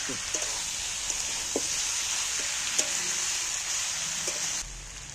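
Hot water hitting a pan of frying jackfruit curry masala, giving a steady broad sizzle with scattered faint clinks of a stirring spoon, close and even, then easing slightly near the end.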